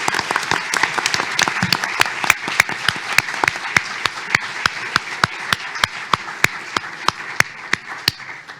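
An audience at an environmental candidates' debate breaks into steady applause, a broad wash of clapping with sharp rhythmic claps standing out near the front, sustained throughout.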